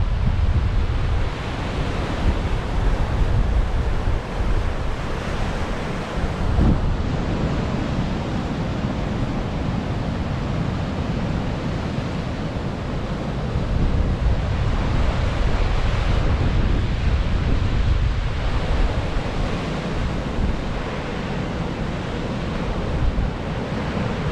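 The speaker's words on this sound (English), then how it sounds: "It's amazing to see these waves crashing out in the distance over the rock" Atlantic Ocean waves crashing over submerged rocks at Hartland Quay, a continuous loud roaring surf buffeted by heavy wind noise on the microphone, with no voices present.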